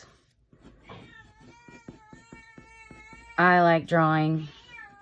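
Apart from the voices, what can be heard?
cat meowing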